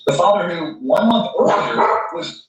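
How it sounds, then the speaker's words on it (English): A dog barks in the background of a home recording, its short barks partly buried beneath continuous close speech. "That's my dog barking in the back"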